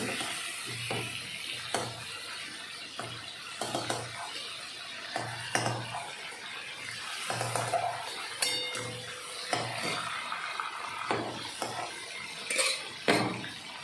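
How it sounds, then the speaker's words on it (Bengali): Pieces of fried chicken are lifted out of a pan of hot oil while cooking a Sunday chicken curry. Repeated metal utensil scrapes and clinks sound against the pan over a soft sizzle, close and steady, with no talking. "চলো চিকেনগুলোকে তুলে নিচ্ছি একটু ভেজে।"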